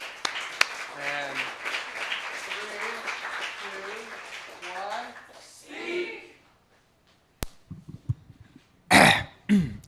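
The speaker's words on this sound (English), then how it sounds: "A round of applause, please." An audience at a poetry slam claps in a short, loud burst near the end, right after a stretch of someone talking into a microphone.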